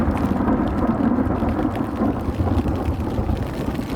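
A dense, steady roar of heavy rain with a low rumble of thunder beneath it, broadband and continuous, with no voices.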